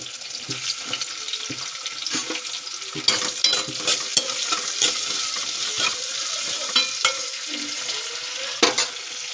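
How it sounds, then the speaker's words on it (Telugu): Tomatoes go into onions frying in a pan with a dense, continuous sizzle and hiss, with scattered clinks and stirring scrapes throughout, steady and fairly loud. "ఎర్రగడ్డలు అయితే బాగా దోరగా వేగనివ్వాలి. టమాటాలు అయితే వేస్తున్నాను."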